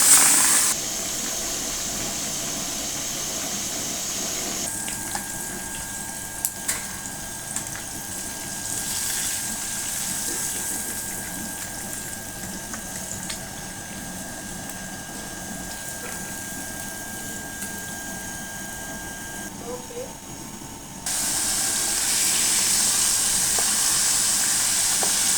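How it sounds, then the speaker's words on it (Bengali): Fish fries in a pan with a constant broadband hiss of hot oil and steam, steady for a long stretch and briefly louder toward the end, with no talk. "হয়ে গেছে মাছ ভাজা, আরও আছে, পরে ভাজবো।"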